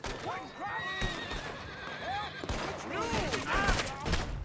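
A horse in the video game Red Dead Redemption 2 neighs and whinnies several times over clip-clopping hooves, with gunfire and voices in the mix.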